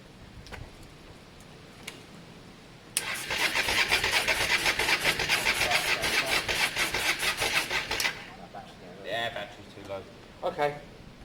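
A Honda Varadero 125 motorcycle cranks in a steady rapid chatter for about five seconds, fairly close and loud, then stops. It is followed by a few short bursts of whirring and sputtering with no clear catch.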